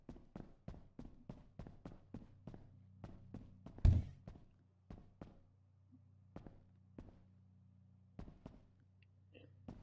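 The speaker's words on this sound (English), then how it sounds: "It's like I heard gunshots." Rapid sharp cracks of video game gunfire fire in quick bursts, then thin out into scattered single shots over a low steady hum, with one louder thump midway.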